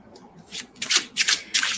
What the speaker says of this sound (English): I'm just gonna shuffle a little bit and split the deck open